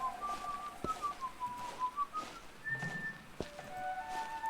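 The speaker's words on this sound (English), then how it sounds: "being able to whistle while you travel with other players is actually incredibly pleasant" A character whistles a wandering melody in the online game Book of Travels, clear sustained tones gliding up and down with a few short pauses and soft footsteps beneath, no talking.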